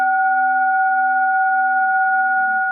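A Tibetan singing bowl rings with a steady, sustained tone made of a few pure overtones, holding at an even level without fading for about three seconds.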